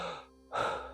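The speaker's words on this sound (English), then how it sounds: "So a good technique is to do diaphragmatic breathing." A single deep breath drawn in sharply, a close, breathy gasp lasting under a second, after a brief quiet pause and a softer exhale.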